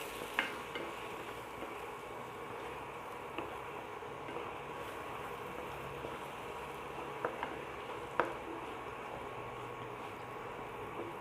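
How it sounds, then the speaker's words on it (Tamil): Beans and egg stir-fry with turmeric, pepper and salt is stirred in a pan: a continuous soft sizzle, punctuated by a few sharp scrapes and taps of the spatula against the pan. "எல்லாத்தையும் நல்லா மிக்ஸ் பண்ணிக்கிறேன்."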